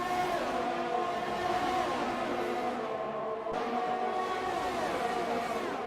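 Several race cars in an F1 video game at the Canadian round, engines whining at a steady high pitch as they run close together, with shifting tones as cars pass.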